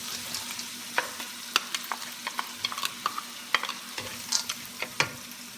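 Mixed vegetables stir-fried in a pan with garlic for Japanese fried rice: irregular, close spatula scrapes and clacks over a faint, steady sizzle, with no voices.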